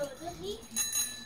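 A bell rings twice in ArmA 3 during a Christmas race event, sharp and bright, with a child-like voice and other talk around it.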